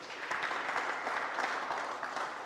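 A short burst of church congregation applause during a sermon, dense and even, many hands clapping together at a steady level.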